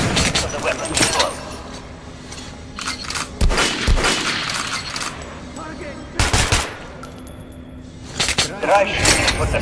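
Gunfire from a weapon in the video game Metro Last Light Redux, with bursts of shots and sharp cracks scattered across a noisy game mix, sounding close and loud while a voice talks over it.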